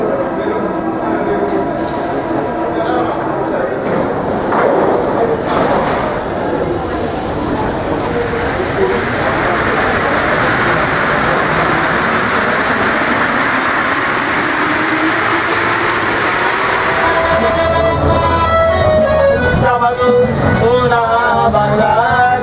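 A Paris metro train rumbles steadily along the tracks, a continuous loud roar with rising wheel squeals and screeching tones toward the end.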